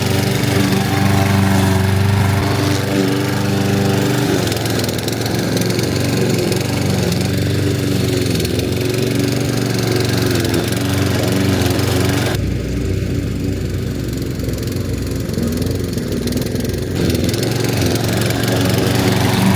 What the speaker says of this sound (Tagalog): nag-lawn mower pala ako dito sa harap ng bahay